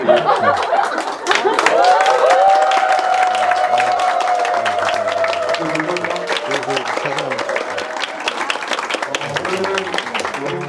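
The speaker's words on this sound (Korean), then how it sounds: "박수로 이렇게 환영해 주셔서 너무 감사합니다" Audience applause with clapping and some laughter welcoming a professor at a church-related study club lecture, loud and sustained throughout, under a lively crowd.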